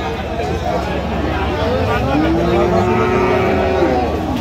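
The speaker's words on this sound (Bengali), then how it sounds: "ফ্রিজিয়ানের ক্রোসের ষাঁড় বাচ্চা যেখানে বেচা কেনা হচ্ছে আমরা সেই জায়গায় রয়েছি।" Friesian cross bull calves at a busy cattle market in Dinajpur, one drawn-out moo rising clearly over a constant background of crowd chatter and bustle.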